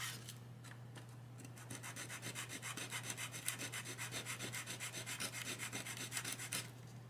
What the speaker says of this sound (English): this stuff sands pretty easily